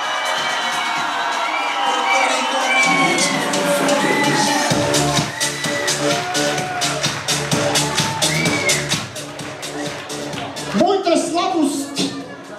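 Loud crowd cheering and applause for a Russian solo dance at a school prom, with whoops, shouts and dense clapping building over several seconds, over music and a voice on a microphone.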